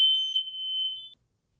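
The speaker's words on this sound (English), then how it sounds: "Is your smoke alarm going off?" A smoke alarm gives one loud, piercing, high-pitched beep lasting about a second, then cuts to silence.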